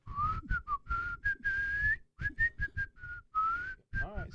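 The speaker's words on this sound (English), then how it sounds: "That's him whistling." A man whistles a bright melodic tune alone, in short phrases and a few sustained held notes with brief pauses between, close and clear.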